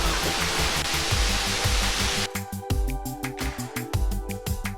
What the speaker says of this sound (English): This really feels nice and alive with the sound of water